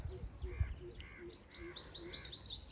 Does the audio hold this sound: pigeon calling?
yes